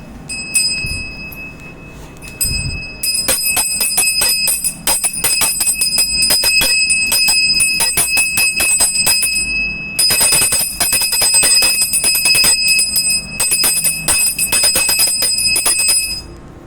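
A small hand bell rings rapidly and continuously in shaking bursts, bright and close, with short pauses between runs.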